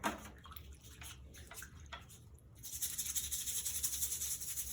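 A silkscreen stencil is rinsed with water: soft scrubbing rubs first, then a steady rushing stream of running water, close and moderately quiet.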